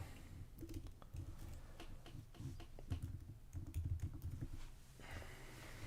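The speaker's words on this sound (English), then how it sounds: "Well, I guess I got to type it." Fingers tap across a computer keyboard in quick, irregular bursts of close clicks, faint in level, with no talking.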